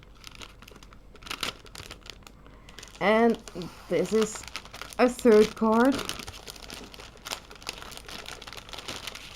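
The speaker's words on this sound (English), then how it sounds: "Sorry for the crinkly noise." Bursts of crinkling paper packaging come in several short clusters, with a person speaking softly in between.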